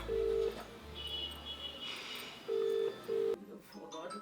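A mobile phone plays a series of separate dialing tones in an irregular rhythm, close and fairly loud, with a voice speaking in the background and a brief rustle of handling.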